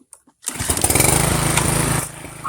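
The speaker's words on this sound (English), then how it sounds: "Let's start it up real quick and show you that it'll start." A DR trimmer mower's small engine catches and runs loud and steady for about a second and a half, then quickly settles to a lower idle, with faint clicks before it starts.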